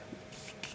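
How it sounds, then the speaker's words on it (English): Two quick hisses of makeup setting spray, short bursts close to the microphone with quiet in between. "Spray it out."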